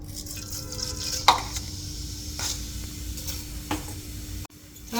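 Nigella seeds sizzling in hot oil, a steady close crackling hiss over a low hum, with a few sharper pops and spits scattered through.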